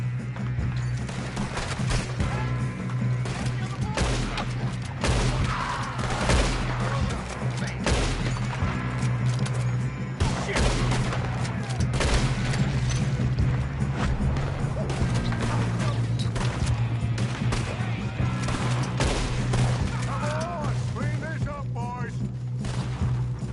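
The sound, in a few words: gunfire in Red Dead video game shootout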